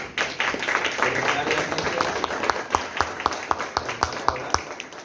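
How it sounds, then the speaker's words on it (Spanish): Applause from the audience at a philosophy café gathering on when life begins, offered to all the participants; a broad wash of clapping that thins into scattered distinct claps near the end, with voices in the room. "Un aplauso general para todos los participantes"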